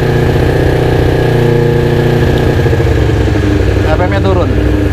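A Kawasaki New Ninja 250 Fi motorcycle engine holds a loud, steady rev of about 4000 RPM nearby, a continuous droning hum that runs the whole time, with a brief shift in pitch near the end.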